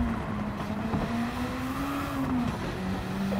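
A Honda Civic Type R FL5 in Gran Turismo 7 held at full throttle through a corner on racing soft tires with traction control off, its engine a steady, sustained drone that rises and falls slightly, with no voices.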